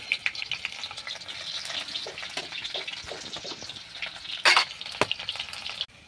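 Onion, chilli and turmeric fry in a pan with a steady close sizzle, broken by a few sharper crackles and stirring scrapes near the end, with no talking.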